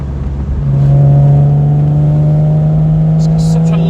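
A Porsche Boxster engine burbles steadily at low revs, a close, loud, continuous rumble that holds after a brief quieter start.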